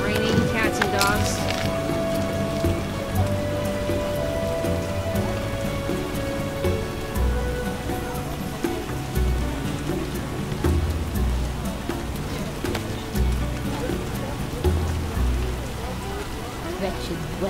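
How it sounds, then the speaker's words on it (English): Heavy rain pours steadily throughout a scene in the video game The Witcher Enhanced Edition, a dense, continuous downpour patter with faint tonal game ambience and occasional voices beneath it. "Raining cats and dogs."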